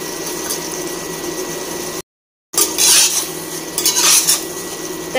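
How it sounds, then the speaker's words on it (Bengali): A spatula scrapes and clatters against a pan while mutton is stirred, close and sharp, with a faint sizzle underneath; a brief cut of silence splits the stirring, and nobody speaks. "এখন ঘন ঘন নাড়তে হবে"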